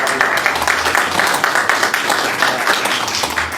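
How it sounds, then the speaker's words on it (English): People at a city mayor and council meeting applaud in a short burst of steady clapping that fills the room from start to finish. "Round of applause for the"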